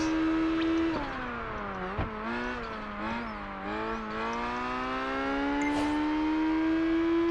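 Race car drifting through a corner in Project Gotham Racing 4, its engine holding a steady high whine that dips and rises as the tires squeal and slide, continuous and fairly loud with no talk over it.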